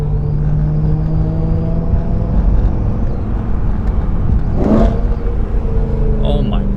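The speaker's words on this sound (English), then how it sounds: "this thing literally sounds like it has a turbo spooling under the hood when it's just this absolutely massive intake" A BMW M3 engine fitted with a large carbon fiber air intake drones loudly with a steady rumble and a rising whine like turbo spool, while a person talks over it.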